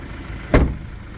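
A 2020 Iveco Daily Maxi van's engine idles with a steady low rumble, broken midway by a single sharp thump, like a door or panel, close by and with no talking.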